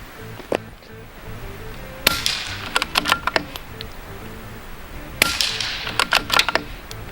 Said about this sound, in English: The sound of hitting that empty Coke can down there is louder than the gunshot.